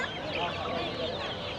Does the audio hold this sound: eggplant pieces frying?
no